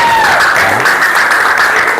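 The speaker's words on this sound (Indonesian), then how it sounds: "tepuk tangan untuk kita semua" A classroom group claps together, with a steady dense patter of hands filling the whole short burst at a fairly loud level and no clear voices over it.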